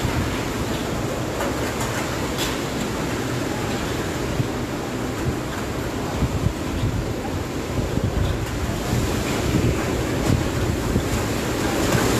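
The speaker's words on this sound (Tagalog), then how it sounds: "Malakas. Nag-iikot ang hangin dito sa aming location." Strong, swirling wind from Super Typhoon Goni roars steadily and loudly across the whole stretch, a dense rushing blast with gusty surges and buffeting on the microphone, no voices.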